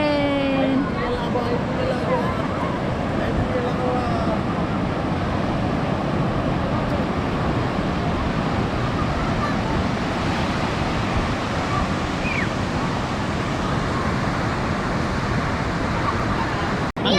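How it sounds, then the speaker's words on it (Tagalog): Ocean waves wash steadily onto a beach in a continuous roar, with wind and faint voices in the background. "Ang lalaki ng mga alon"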